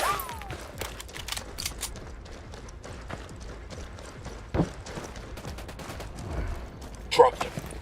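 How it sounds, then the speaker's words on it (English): Gunfire in Ghost Recon Wildlands: a dense barrage of sharp shots and rapid bursts, with louder cracks near the middle and end, over a busy ambient background with voices mixed in. "Opening fire."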